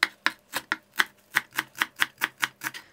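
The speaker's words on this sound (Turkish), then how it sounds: "Küçük bir tutam dereotu, küçük bir tutam da maydanozun şöyle uç kısımlarından doğruyorum." A knife chops quickly and steadily against a cutting board through fresh dill and parsley, about a dozen crisp, evenly spaced taps close by with no talking.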